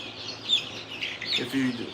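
Baby chicks in a chicken room chirp in short, bright peeps, several quick calls close by over a low background murmur.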